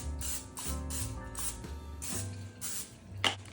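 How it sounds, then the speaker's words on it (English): Several short hissing bursts of aerosol cooking oil spray into a glass Pyrex dish, repeated in quick succession at close range. "I'm gonna spray just a little bit of oil down first."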